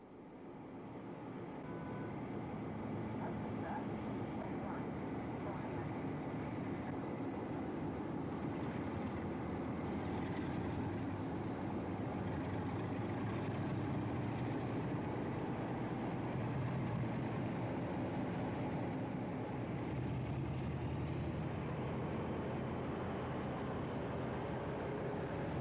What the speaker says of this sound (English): This is the 9 o'clock from Poole to York.